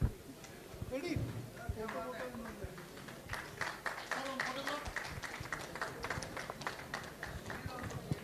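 A crowd at an amateur radio convention claps steadily over overlapping chatter, the patter building after the first couple of seconds and continuing at a moderate, distant level.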